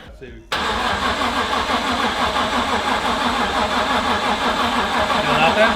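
An LS1 turbo engine in a VY ute cranks over with its injectors disconnected, a loud, continuous rhythmic churning of the starter that begins abruptly and never catches.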